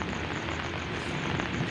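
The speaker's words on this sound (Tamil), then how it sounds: "இன்னும் இடி இடிக்கிறது ஃப்ரெண்ட்ஸ்." Thunder rolls through heavy rain in a village, a dense continuous rumble and roar that stays loud and steady throughout with no voices.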